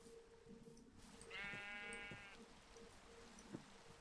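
A pink sheep in a video game gives a single bleat, a quavering, mid-pitched call lasting about a second over a quiet background.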